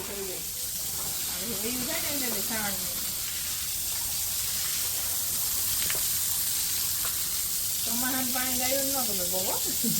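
A steady, close hiss of spraying water runs throughout as a cow is washed down, while someone talks intermittently over it.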